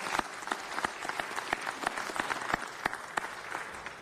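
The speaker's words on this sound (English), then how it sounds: "Let's give them a big round of applause." Applause from an audience at a city council meeting, a steady patter of many hands clapping at moderate distance, fairly faint and continuous with scattered sharper claps.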